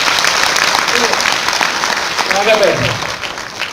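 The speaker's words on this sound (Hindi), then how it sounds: "एक बार पूरा श्रोता संघ मुझे आकाश पर तालियां दे" Audience applause for a poet at a Hindi poetry recital, dense loud clapping from a large crowd sustained throughout and fading slightly toward the end.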